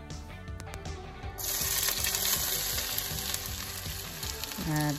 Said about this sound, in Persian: اول روغن در دیگ مندازیم که خوب سرخ شد